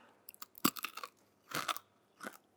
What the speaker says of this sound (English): That's crunchy cheese.